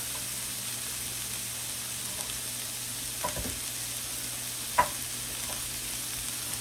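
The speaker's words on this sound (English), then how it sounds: "We're going to allow this to cook." Cheesesteak filling with garlic frying in a pan, giving a steady, even sizzle with a faint hiss over a low hum, broken by a couple of brief knocks or scrapes.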